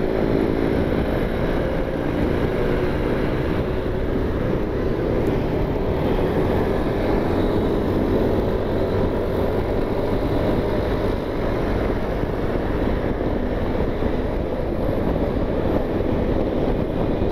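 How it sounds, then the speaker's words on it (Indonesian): A steady, loud roar of road traffic and engine noise continues without pause, like riding a motorcycle along a busy road with noisy motorcycles around, in Cibinong, Indonesia. "Berisik itu motor."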